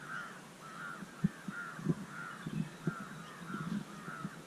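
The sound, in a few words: birds calling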